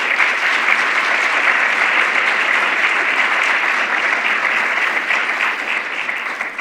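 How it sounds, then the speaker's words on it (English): Loud, steady audience applause at an African-American history and culture conference in Nashville, many hands clapping evenly for several seconds before easing slightly at the end. "Let's give them a round of applause."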